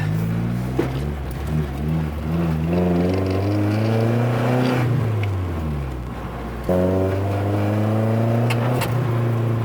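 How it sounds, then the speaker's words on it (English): A restored Nissan 240SX's exhaust drones steadily while driving, revving up and easing off through the gears, close and moderately loud. "Good exhaust note, not too loud."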